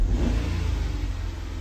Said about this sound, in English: we're just gonna give it another little rev